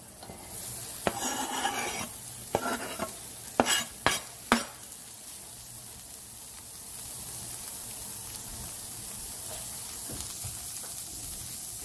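Chopped onions are added to a hot pan on a stovetop and sizzle softly, with several sharp scraping strokes of a spoon or spatula stirring them. A quiet steady frying hiss continues underneath.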